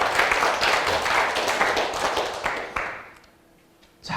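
Audience clapping after a Korean lecture in a university CEO course, dense and steady for about three seconds, then fading to quiet before a small burst at the end.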